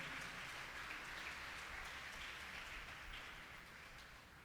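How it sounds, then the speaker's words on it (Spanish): A church congregation applauding during a service, a continuous dense patter of many hands clapping, heard somewhat distant and quiet, fading slightly toward the end. "Dele un aplauso al Señor, por favor, en esta hora"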